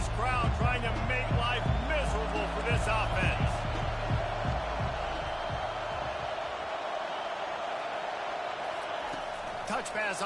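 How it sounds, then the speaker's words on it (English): Crowd noise at a Pitt college football game, a dense roar of the stadium audience mixed with a commentator talking over it throughout. "This crowd trying to make life miserable for this offense."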